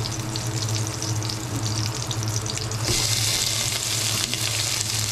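Onions frying in hot cooking oil, a steady broadband sizzle that grows louder and hissier midway, with a faint low hum beneath and no talking.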